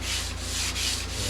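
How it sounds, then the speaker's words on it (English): A flat sanding block with 220-grit paper rubs over primer on a small car body repair in steady back-and-forth strokes, about three passes, close and continuous. "Just sanding out your primer with a nice flat block to get a nice flat straight repair."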